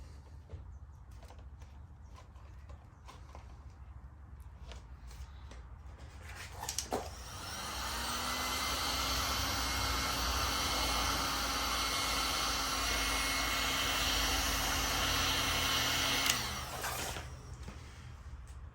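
A heat gun blows hot air steadily onto the plastic of an aggressive rear diffuser for a 2022 Honda Accord 2.0T, a loud continuous whooshing hiss with a faint whine that starts abruptly, holds for about nine seconds, then cuts off.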